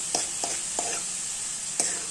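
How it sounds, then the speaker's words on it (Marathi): Green spice paste stir-fried in a pan for a traditional spicy curry, a steady close sizzle broken by a few spatula scrapes at uneven intervals. "मी आता इथं हिरवं वाटण घातलं आहे तर हे आपण आता चांगलं परतू द्यायचं"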